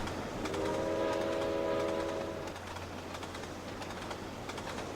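Passenger train in a train simulator game passing by, with a steady horn tone for a couple of seconds over a rumbling rail hum, some birdlike chirps mixed in.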